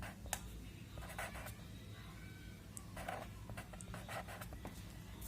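A pen moves across paper as a math answer is written out, giving faint, close scratching strokes in short bursts over a quiet background.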